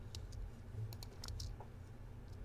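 Faint, quick computer keyboard and mouse clicks while editing designs in Hatch Embroidery 2 software, a handful of light taps in a quiet room with no talking.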